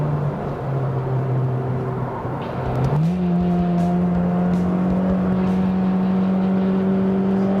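A 2016 Honda Civic Type R driving around track corners, its engine drone steady, then dipping and rising to a higher sustained pitch as it accelerates, heard from inside the car without talking.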